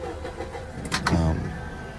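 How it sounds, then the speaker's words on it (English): A push-to-start car engine cranks briefly and catches, settling into a steady idle close by. "press the switch, and the car should start up"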